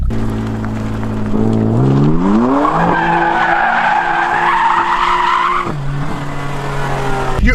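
BMW M3 drifting with loud, sustained tire squeal and skidding over a revving engine whose pitch climbs and holds, then drops abruptly near the end, close and continuous with no talk.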